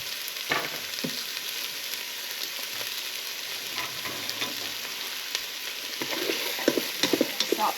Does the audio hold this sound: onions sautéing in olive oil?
yes